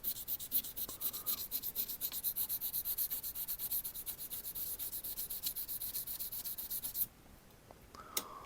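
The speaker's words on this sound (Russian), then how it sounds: "Сейчас воспользуемся наждачной бумагой, чтобы очистить поверхность заготовок от окисления" Oxidized metal parts for a 1/16 scale miniature sculpture being sanded with sandpaper, a steady, close scratchy rubbing with rapid back-and-forth strokes that runs for about seven seconds and then stops, followed by quiet.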